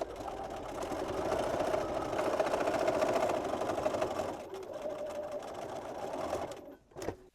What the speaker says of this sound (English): Now we're going to sew along the whole length of each one of these strips of fabric.